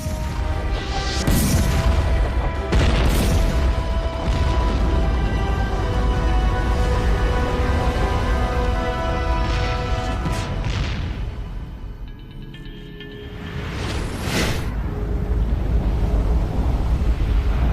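Heavy booms burst out one after another over a constant roaring backdrop, several loud blasts spaced through the clip like heavy cannon fire from warships.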